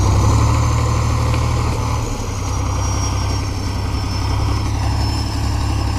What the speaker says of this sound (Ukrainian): Двигун грає і співає, хто розуміється.